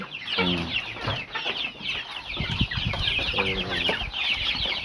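A flock of poultry chickens clucks close by in a busy, overlapping chorus of short repeated clucks and calls that continues throughout.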